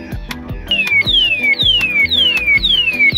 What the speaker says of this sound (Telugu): ఈ అలారం మోగుతుంది. అలారం సౌండ్ చాలా లౌడ్గా ఉంటుంది,